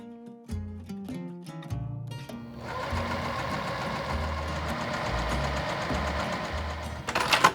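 Sewing machine stitching jelly roll quilt strips together, starting with a few short bursts and then running in a steady, fast, close mechanical whir for several seconds.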